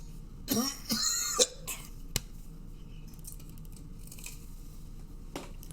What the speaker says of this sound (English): I cough like that, I'm done smoking.